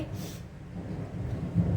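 Low thunder rumbles steadily through a rainstorm in Malaysia, a deep continuous roll with no voices over it.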